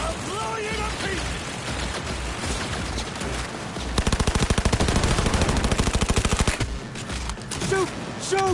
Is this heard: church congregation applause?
no